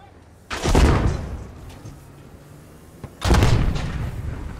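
Two heavy tank cannon shots from main battle tanks in the video game SQUAD, each a loud booming blast with a long rumbling decay, roughly three seconds apart.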